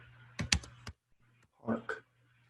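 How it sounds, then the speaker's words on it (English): Clicky keystrokes on a computer keyboard while entering text into an editing program, two short bursts of quick taps separated by a pause, close and fairly quiet, with no speech over them. "My typing is great."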